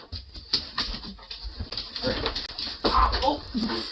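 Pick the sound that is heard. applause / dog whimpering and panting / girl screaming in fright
dog whimpering and panting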